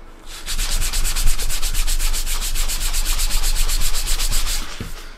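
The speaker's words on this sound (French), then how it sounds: "vous pouvez tout simplement lustrer avec une brosse en poil de canasson" A horsehair brush buffs treated leather to a shine in fast, even back-and-forth strokes, a close, continuous rhythmic swishing that starts abruptly and stops at the end.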